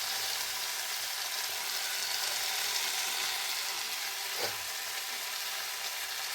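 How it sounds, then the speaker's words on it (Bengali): Boiled noodles hit a hot pan for veg chow mein, producing a steady, even sizzle of frying with one brief stir or scrape partway through, close and without speech. "এরপরে আমি এতে যোগ করবো সেদ্ধ করে রাখা নুডলস।"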